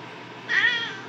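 A single drawn-out cat meow, fairly close and clear, rising then falling over a quiet background.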